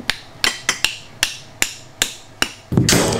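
A hammer taps a part into place in about ten sharp, close metallic strikes at an uneven pace, ending with a burst of broadband rustling noise.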